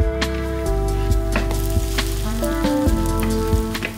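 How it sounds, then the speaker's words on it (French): Bread slices frying in olive oil in a hot pan give off a steady, close sizzle that runs without a break, with faint scattered crackles over a continuous background tone. "Dans une autre poêle chaude, je vais faire dorer mes tranches de pain à l'huile d'olive."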